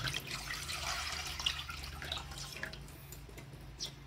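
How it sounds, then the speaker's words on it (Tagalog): Water pours and trickles steadily into a pitcher for a mango and chocolate drink, quiet and close, with small splashy drips throughout. "maglalagay tayo ng half pitchel ng tubig mga kaibigan"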